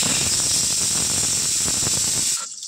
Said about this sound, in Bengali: কথা বলতে বলতে সিটি পড়ে যাচ্ছে, 3টে সিটি পড়ে গেল।